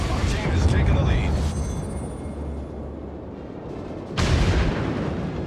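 Heavy naval gunfire from the World of Warships game, with deep booming salvos and rumbling blasts, one broad burst at the start and another sharp boom toward the end, while a player talks over the battle.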